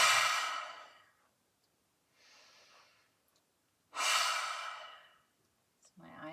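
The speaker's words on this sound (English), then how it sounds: "It's our lion's breath. It should build heat. It should feel good. Kind of sounds like a hiss or a warning." Forceful hissing exhales of yoga lion's breath, two strong breathy bursts with a softer breath between, close and alone.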